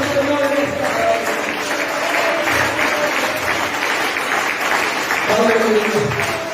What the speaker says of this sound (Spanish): denle ese aplauso al Señor en esta tarde